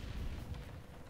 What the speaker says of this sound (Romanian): mă joc cu un butoi și bubuie